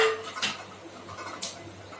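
Plum cake batter being mixed in a bowl, with a few soft clinks and scrapes of a spoon against the bowl at a quiet, close level.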